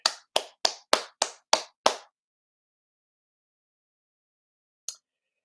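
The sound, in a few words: audience applause for award recipient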